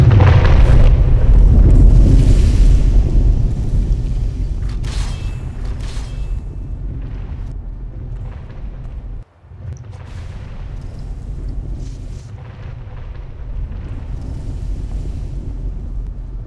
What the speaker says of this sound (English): it causes an earthquake around the caster to make enemies lose their balance